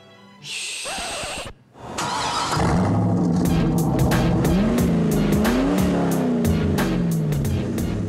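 Race car on a track: an engine revs up after a brief hiss, then climbs and shifts through repeated rising pitch sweeps, loud and close, with sharp ticking transients over the steady roar.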